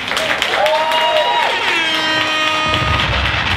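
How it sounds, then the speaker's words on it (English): A crowd claps and cheers steadily, the dense applause filling the room as a bright tone rises and holds above it. "Please give her a round of applause."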